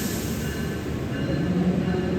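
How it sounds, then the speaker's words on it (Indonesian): Kertajaya train rolling into platform 3 at a station, a steady low rumble of wagons and wheels with a faint squeal, continuous and fairly close. "Dan di jalur 3 masuk kereta api Kertajaya."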